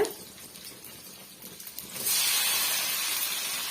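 Chopped tomatoes hit a hot pan of sautéed onion and garlic, breaking into a loud, steady steamy hiss that continues close up with no talk.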